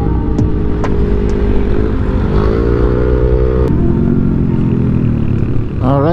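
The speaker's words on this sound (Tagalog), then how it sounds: "Mga big bike. Daming big bike, oh. Pila-pila sila." A line of big motorcycles rides past one after another, loud and close, their engines droning and shifting pitch over a steady roaring road noise, with a brief rising rev at the end.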